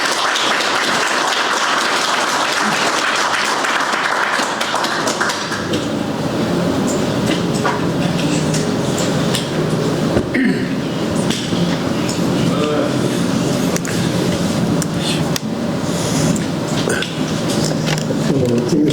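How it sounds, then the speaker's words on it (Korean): Audience applause at a book launch ceremony greets a former prime minister coming up to give a congratulatory speech; dense, steady clapping fills the hall for the whole stretch, with some voices mixed in. "큰 박수로 맞이해주십시오."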